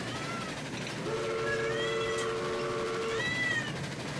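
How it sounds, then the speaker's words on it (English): Twin steam locomotive whistles in Railroads Online sound together at slightly mismatched pitches, producing a warbling, beating tone. A long steady blast is followed by a shorter one, moderately loud over a low rumbling background. "You can hear that little bit of warbling because the two frequencies on the whistles are"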